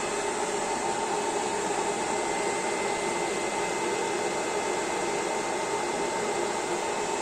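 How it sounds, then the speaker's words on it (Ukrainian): Cooling fans of an EAFC 5000 W inverter running under load while it powers an electric kettle during a blackout, a steady broadband whoosh with no change in level and no talk. "Вентилятори на інверторі працюють"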